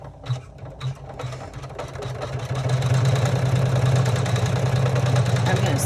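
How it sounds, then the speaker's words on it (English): A sewing machine top-stitches a decorative motif on an embroidered crossbody bag, starting with a few short bursts and then running steadily with a loud, continuous mechanical hum; faint talk is mixed in. "we're going to do the top stitch now"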